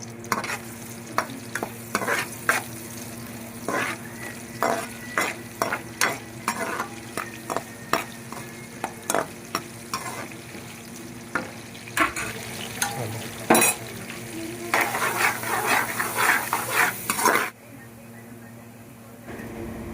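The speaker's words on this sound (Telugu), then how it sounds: "ఆ తర్వాత తరిగి పెట్టుకున్న ఉల్లిపాయలు, పచ్చిమిరకాయలు వేసి బాగా ఫ్రై చేసేయండి." Chopped onions and green chillies fry in oil with turmeric, sizzling steadily while a spoon stirs and scrapes the pan in repeated clicks. The sizzle swells briefly near the end before cutting off.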